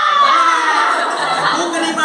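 A group of schoolchildren in a class shouts loudly at a burning candle flame during a science experiment, with a sustained mass of young voices yelling together and some chatter.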